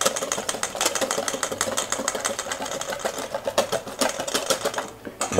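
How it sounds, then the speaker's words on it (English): A whisk beating oil into an aioli emulsion in a bowl, a fast, steady clatter of rapid metallic ticks that continues throughout at close range. "whisking constantly. This is the part you've got to be really careful for"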